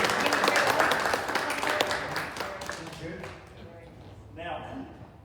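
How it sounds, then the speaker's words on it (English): An audience at a talk on General William Jackson Palmer gives a round of applause, full clapping that fades after a few seconds as a voice begins speaking. "Another round of applause"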